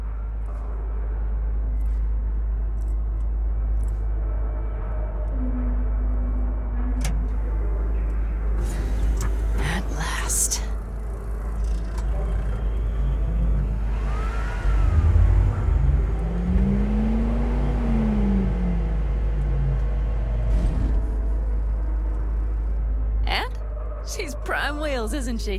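Car engine hum and revving while driving in Cyberpunk 2077, a steady low drone with rising and falling pitch sweeps, under frequent dialogue.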